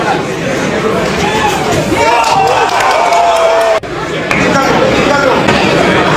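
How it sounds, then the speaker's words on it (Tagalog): Boxing arena crowd roaring and shouting for their fighter, a dense continuous wash of voices at steady loudness with a brief sharp dip and a thud midway, while a commentator talks over it. "Sumisigaw ang crowd para sa kanilang pambato."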